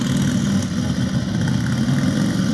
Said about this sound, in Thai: ว่าอยากรู้มากเลยว่ารุ่นแรกเลยอ่ะปี1911อ่ะเครื่องยนต์มันดังยังไงอ่ะลองไปฟังกัน